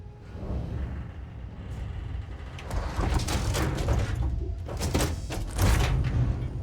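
In the video game Starfield a door opens mechanically with a sliding, whirring motion that builds through several layered surges, ending in a heavier thud and a low rumble.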